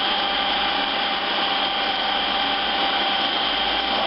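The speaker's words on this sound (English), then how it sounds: "It's starting to move around a little bit in the food processor." A food processor blends hummus in a loud, steady motor whir with a coarse grinding texture. It runs continuously and close by, without a break.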